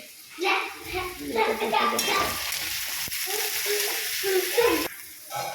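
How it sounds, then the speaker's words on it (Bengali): Onions frying in oil for an egg, tomato and onion bhujia, a steady sizzle with stirring clatter running beneath continuous talk throughout. "পেঁয়াজটা কিন্তু বেশ সুন্দর লাল লাল করে ভাজা হয়ে গেছে"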